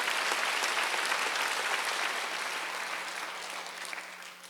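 Steady applause from a congregation during a Wednesday church service, bright dense clapping that holds loud and then fades slightly toward the end, with no voices over it.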